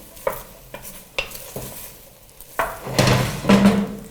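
Browned beef pieces dropped into a stew pot and stirred, with a few sharp clinks and scrapes of a utensil followed by a building sizzle as the meat is mixed around, close up and without speech.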